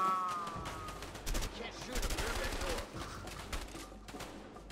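Gunfire in the video game A Way Out, a burst of rapid loud shots and crackling clusters over a background of game noise, with some voice chatter mixed in.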